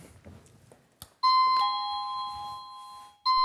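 A doorbell chimes clearly after some faint rustling, ringing one long tone, then a second ring starts at the end.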